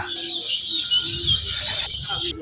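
Sparrows chirping in palm trees on a rural morning, a dense continuous chatter of high twittering calls close by, with some low background noise underneath.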